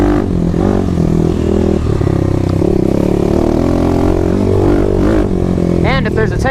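A 2021 Kawasaki KLX300 with a Barker exhaust system runs close and loud, giving a constant throbbing drone with surges of revving, rising sharply near the end, with a voice briefly over it.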